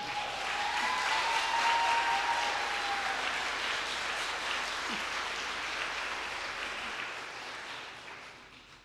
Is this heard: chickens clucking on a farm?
no